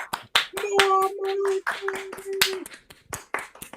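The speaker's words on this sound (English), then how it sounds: "Well, first of all, big round of applause." An audience at a magic tournament final gives a round of applause, with scattered claps mixed with vocal whoops and cheers rising and falling in a lively burst.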